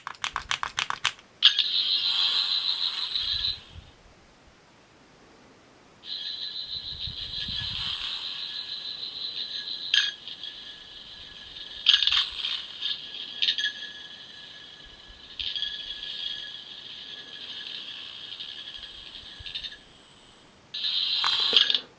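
A high electronic whirring tone from a Character Options Fourteenth Doctor sonic screwdriver toy sounds in several sustained bursts with short pauses between them, alone and fairly clear.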